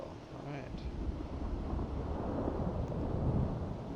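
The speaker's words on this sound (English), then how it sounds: "Sounding like it's getting a little windy out here." Wind in the Final Fantasy XIV video game blows as a steady, rushing roar with a low rumbling body, moderately loud and continuous, with faint brief tones near the start.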